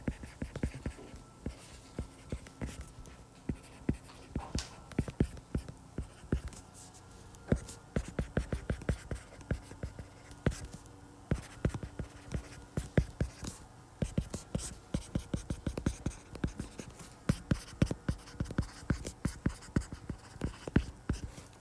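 Chalk or pen writing an equation on a board during a physical chemistry lecture, heard as many faint, dense scratchy taps and strokes that continue steadily throughout.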